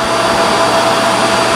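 An upright vacuum cleaner, a Shark Rotator or Dyson Ball, runs very close and loud with a steady, unbroken motor whine and airflow rush.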